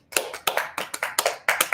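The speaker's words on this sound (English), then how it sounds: "Round of applause for Barbara." Applause for Barbara during a live talk show, heard as a few sharp, close claps in quick, slightly uneven pairs rather than a full crowd.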